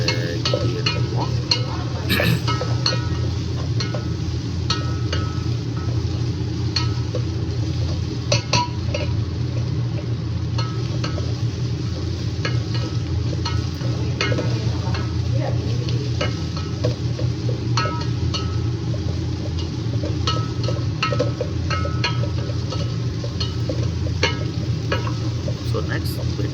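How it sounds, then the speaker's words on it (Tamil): Potatoes sizzle and fry in a pot as the base for a chicken soup with chicken feet, liver and hearts. A steady frying hiss runs throughout, and a utensil stirring against the pot adds scattered scrapes and clinks close by. "இப்படியே நம்ம உருளைக்கிழங்கை ஆட் பண்ணிவிட்டு நல்லா அதை கிண்டி எடுத்துக்குவோம்."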